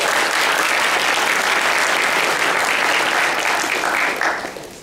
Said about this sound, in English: So huge round of applause to Kim and Yevgenia.